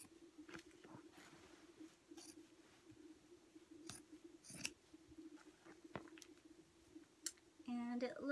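Scissors snip through old curtain fabric while it is cut into dish towels, giving faint, scattered clicks and soft crunches under quiet room noise, with a brief scraping rustle near the end.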